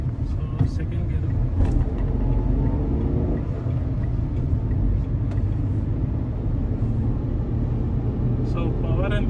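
A 2021 Renault Triber BS6 RXZ drives in second gear, its engine a steady low rumble with road noise throughout, and someone speaks over it.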